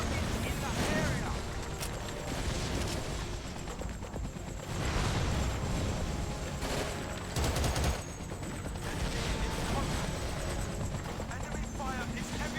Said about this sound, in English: Enemy fire is heavy and accurate